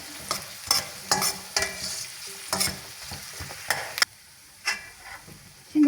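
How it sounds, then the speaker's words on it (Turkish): Carrots fry with onions in a pan, a steady sizzle broken by repeated scraping stirs of a spoon, close and clear with no talking. "Soğanlar kavruldu arkadaşlar. Şimdi havuçta kavrulsun."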